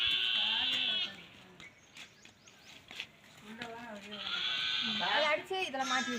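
Goats bleat loudly and close by in long wavering cries, with a pause in the middle before more bleating, while people talk in the background.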